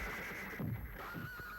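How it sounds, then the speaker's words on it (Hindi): A horse whinnies once in a stable, a mid-range neigh rising briefly over steady background noise, with a faint second call shortly after. "ये क्या घोड़े रखे हुए हैं?"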